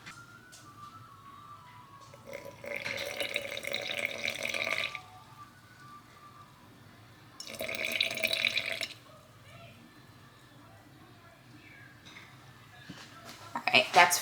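Water poured into a jar on a kitchen scale while making sourdough starter, two bursts of splashing pour a few seconds apart, close and moderately loud, with quiet gaps between.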